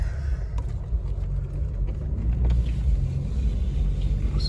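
Loud, continuous cabin rumble of a Jeep Cherokee driving with a cargo carrier rack on a hitch receiver, with faint rattles and knocks from the rack mixed into the road noise.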